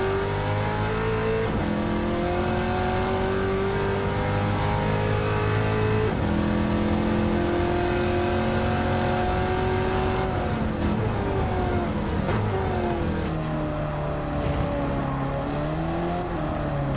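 Race car engines in Gran Turismo 7 at Lago Maggiore rev and shift continuously, with rising and falling pitch sweeps through gear changes, loud and sustained throughout with no talk.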